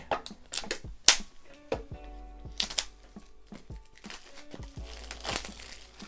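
Crinkling and rustling of new Apple product packaging being unboxed, with sharp crackles, soft thumps and occasional tearing, close and fairly loud with no talking.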